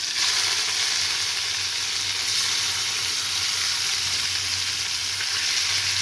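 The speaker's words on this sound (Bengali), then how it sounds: "তার আগে আমি ছোট ছোট মাছগুলোকেই একটু ভাজার জন্য দেবো" Small fish frying in mustard oil with nigella seeds: a constant, dense sizzle heard up close, loud and even for several seconds, with a low hum underneath.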